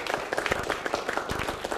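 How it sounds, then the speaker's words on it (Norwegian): Audience applause at a Norwegian televised hospital fundraising event from 1996, a dense patter of clapping from a crowd in a low-quality recording. "vi gir Kvitsøy en skikkelig applaus"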